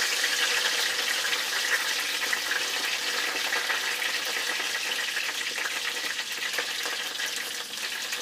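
Curry leaves sizzle and crackle in hot oil as the tempering for a Kerala-style beef curry, a steady, dense frying hiss that holds loud and close for the whole stretch with no voices.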